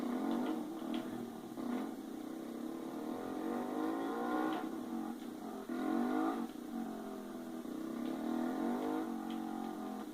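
A 50cc motocross bike engine in the video game MX vs ATV Alive drones steadily throughout, its pitch rising and falling with revving, fairly loud and continuous with no talk.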